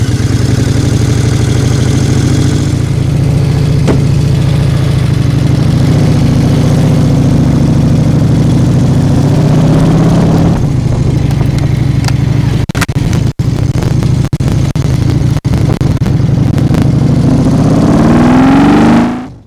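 An Excelsior Henderson Deadwood Special motorcycle engine runs steadily and loudly close by on a test ride around the block, holding a low continuous drone with a rise in revs near the end.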